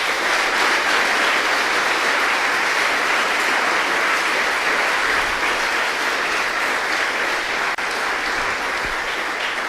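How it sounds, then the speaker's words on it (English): Sustained applause from a crowd at a fireside chat with a tech founder, a dense steady patter of clapping holding loud and even throughout with no voices over it. "Big round of applause for Joel."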